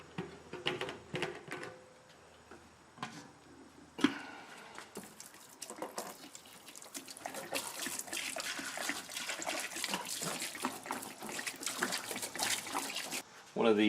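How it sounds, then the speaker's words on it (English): Mineral spirits poured from a five-gallon supply into a parts washer for cleaning donor Mustang suspension parts, a steady liquid trickle and splash that builds and continues for several seconds after some handling clatter. "So I'll go ahead and pour some in."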